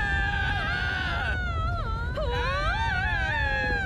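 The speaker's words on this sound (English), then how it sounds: "Stop screaming." A character in Minecraft: Story Mode screams and wails in a high, sliding, sustained cry that bends up and down over nearly four seconds, loud and close, with no other voices.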